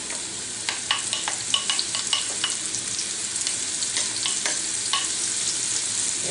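Mushrooms sautéing in a frying pan, a steady close sizzle and hiss with scattered sharp crackles and the scrape of stirring, no voices.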